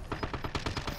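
A rapid burst of automatic gunfire in a shooting video game: about eight or nine evenly spaced shots, fairly faint and alone.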